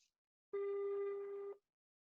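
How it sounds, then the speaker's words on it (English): A telephone gives a single steady electronic tone lasting about a second, clear and isolated against silence. "We can hear your phone ring."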